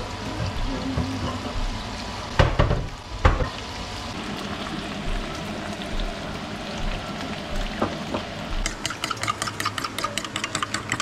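Bacon fries for breakfast, a steady sizzle under household hum, with a couple of louder clattering knocks early on and a rhythmic ticking crackle toward the end, no talking.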